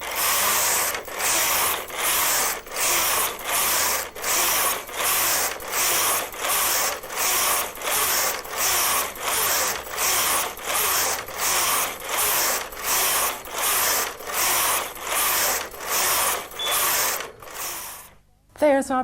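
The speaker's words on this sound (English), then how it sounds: "the machine is telling us it's ready to knit the pattern" A Brother KH-950 electronic knitting machine knits a programmed pattern, its carriage racking across the bed in a steady series of loud, sharp ratcheting passes roughly every 0.8 seconds, running alone for about eighteen seconds before a brief clatter at the end.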